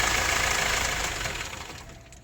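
A hard-starting Hyundai Porter II with a D4CB diesel engine runs with a steady, close rumble that eases off slightly toward the end.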